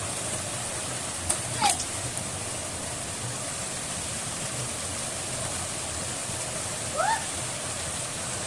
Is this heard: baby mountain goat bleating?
no